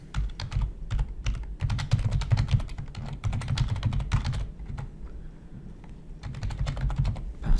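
Close, rapid clicking of a computer keyboard as someone types login details, in uneven bursts with short pauses between them.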